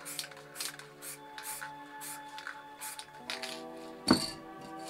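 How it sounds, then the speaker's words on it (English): Short hissing bursts from an MTN Hardcore spray paint can while painting art, recurring in quick intermittent puffs, with one louder, sharper spray near the end. "there's not much overspray or anything off the can or the cap when spraying it"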